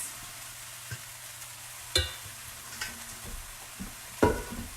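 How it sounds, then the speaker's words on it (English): A full skillet of cauliflower rice, squash, zucchini and onions fries quietly, with a soft, faint sizzle broken by a few sparse scrapes and clinks of a utensil against the pan. "all of this rice and squash and zucchini is going in here with the onions"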